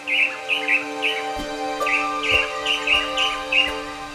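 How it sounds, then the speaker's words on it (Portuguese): A swallow-tailed manakin in Pantanal forest vegetation calls insistently, giving about eight clear, bright chirping notes in a steady rhythm, close and fairly loud over a soft background hum. "avistamos um tangará dançador, que vocalizava com insistência"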